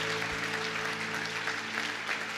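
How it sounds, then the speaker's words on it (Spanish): Congregation in an evangelical church applauds loudly and continuously, a thick wash of clapping from a large crowd with a faint sustained musical tone underneath. "¿Por qué no le dan un aplauso fuerte a Dios y se ponen de pie?"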